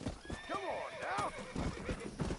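A short burst of a horse in Red Dead Redemption: hoofbeats thud nearby while a loud, quavering neigh rises and falls twice in quick succession.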